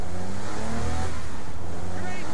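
A car driving in Saints Row IV, a steady engine drone that rises slightly in pitch, heard continuously and fairly close for a couple of seconds.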